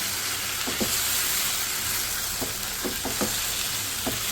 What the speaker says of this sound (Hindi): इसको 1 से 2 मिनट भूनूंगी मैं।